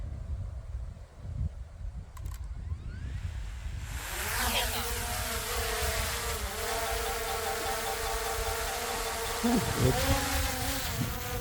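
A DJI Mini 4 Pro drone spins up and lifts off outdoors on a breezy day, its high buzzing whine rising after a few seconds of wind and handling noise, then holding steady and close.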